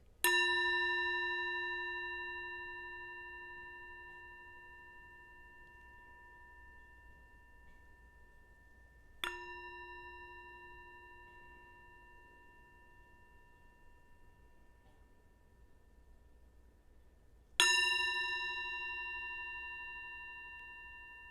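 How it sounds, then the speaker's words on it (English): A metal gong or bowl is struck three times, several seconds apart, each strike ringing out with a bright, lingering tone that slowly fades. "The sound of the gong signifies it's time to make a change."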